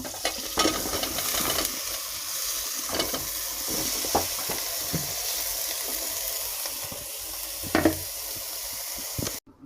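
Washed, tender bottle gourd pieces cooking in a pan, giving a moderate sizzling hiss with repeated stirring clatters and scrapes, close by, then cutting off abruptly at the end.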